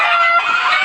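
Farm chickens suffering in the heat give a continuous strained, raspy cackle at close range, one steady call with no talk over it.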